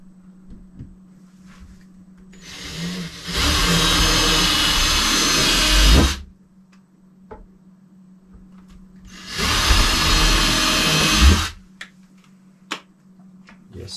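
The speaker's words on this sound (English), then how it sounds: "I'm going to drill them real quick." Two bursts of a power drill boring holes for a guitar wall hanger extension, each running about three seconds with quiet gaps between, close and loud over a low steady hum.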